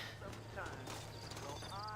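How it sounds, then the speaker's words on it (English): Horse hooves clip-clop steadily in Red Dead Redemption, a sturdy horse in New Austin, the even footfalls running beneath a dense bed of game sound and background voices. "You ain't gonna find sturdier horses than these in all of New Austin."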